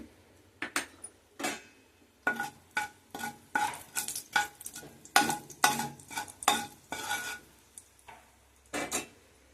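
Mustard and fenugreek seeds tempering in hot oil crackle and pop in quick bursts, mixed with repeated clinks of a spoon stirring against the pan, close and fairly loud, with no talking.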